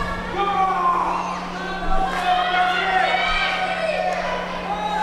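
A wrestling crowd at the Sanctuary Stunt Studio fight club cheers and shouts in a steady, lively roar, with a commentator talking over it and a constant low electrical hum underneath.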